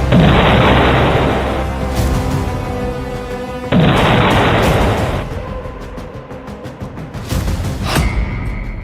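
Serial blasts in Tel Aviv during the Israel–Hamas war, heard as two heavy booming explosion bursts with long rumbling tails and scattered crackling pops between them, loud and close with no talk.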